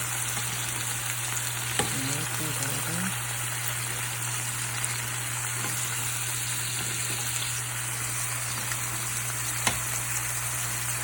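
Braciole beef rolls frying in a pan, a loud, steady sizzle close by, with a few soft clinks and scrapes as the rolls are turned over.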